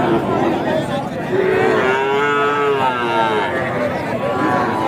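Sahiwal cross cattle at a busy village cattle market in Panchbibi moo loudly and close, one long drawn-out low call rising over a background of crowd chatter.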